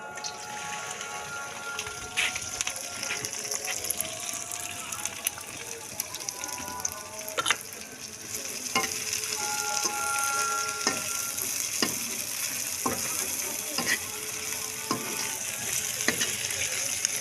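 Okra (bhindi) frying in oil in a pan, a continuous crackling sizzle holding steady throughout, broken by occasional sharp spoon taps and scrapes against the pan.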